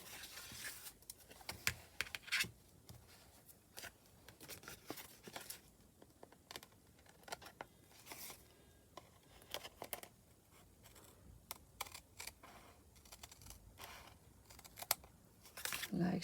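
A paper journaling card is cut with scissors in a quiet room, a long run of faint snips and light paper rustles at close range.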